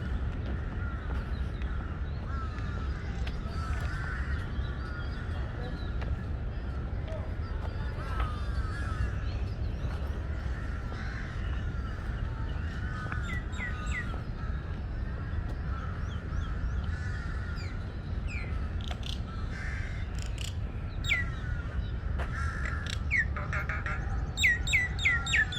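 Crows caw repeatedly among scattered chirps and tweets from other birds in Lumpini Park, Bangkok, on an early morning, set against a steady outdoor ambient hum, with calls near and far throughout.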